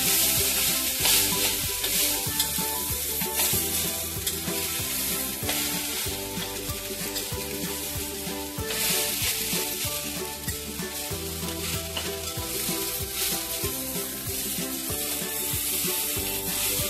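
Leftover rice being stir-fried in a pan makes a loud, continuous sizzle, with scraping stirs over a steady background of music.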